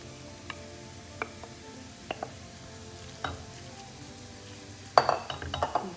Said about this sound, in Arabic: غنشحر الدجاج